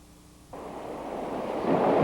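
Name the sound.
fast-flowing river current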